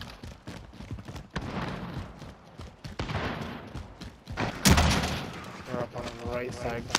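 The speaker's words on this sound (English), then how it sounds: "Are you getting shot at?" Sporadic gunfire in a shooter video game, a sharp shot standing out among scattered bursts, with players talking over much of it.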